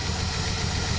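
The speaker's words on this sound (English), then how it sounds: "that damn lifter tap that takes forever to go away" A 1967 Buick GS340 V8 idles with a steady, close, low rumble. A faint lifter tap sits within the even drone throughout, with no voices.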